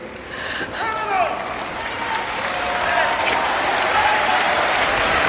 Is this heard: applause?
yes